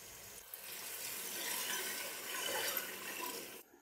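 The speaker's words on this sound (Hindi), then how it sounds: "तकरीबन हम इसमें 2 गिलास पानी ऐड करेंगे।" Water poured from a glass into a pot of simmering chicken curry, a bright continuous splashing pour lasting a few seconds before stopping abruptly, close and fairly quiet, with no talking.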